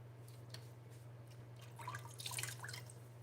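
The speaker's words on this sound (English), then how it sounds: "Let me get my face wet" Water splashing and dripping as a face is wetted at a sink before a wet shave, faint and close, with soft irregular splashes over a steady low hum.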